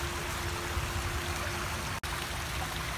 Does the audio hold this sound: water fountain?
yes